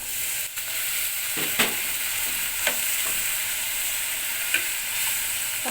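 Chicken masala of chili and coriander powder with a splash of water, stirred and sautéed in a pan: a steady continuous sizzle with occasional scraping clinks of the spoon, no voices.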